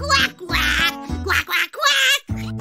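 A voice imitates a duck, giving a run of loud, nasal quacks in quick bursts with short pauses between them.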